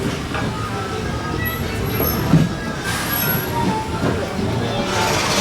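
The Walt Disney World Railroad steam train rolls to a stop on an evening run, a loud continuous rumble of wheels and carriages with faint squeals and clanks, heard from on board.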